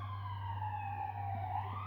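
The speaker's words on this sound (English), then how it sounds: "you can even hear the sirens" An emergency siren wails steadily at a distance, its tone sliding slowly downward over a constant low hum.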